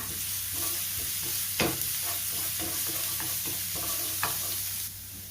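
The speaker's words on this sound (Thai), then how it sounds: "ผัดกระเทียมให้เหลืองหอมนะคะ" Chopped garlic stir-fried in oil until golden, a steady close sizzle with repeated spatula scrapes and stirring clicks against the pan, one sharper knock partway through, then the sizzle drops off near the end.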